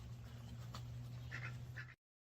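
Ducks quack a few times at moderate distance over a steady low hum, living alongside dogs, the calls short and nasal before the sound cuts off abruptly.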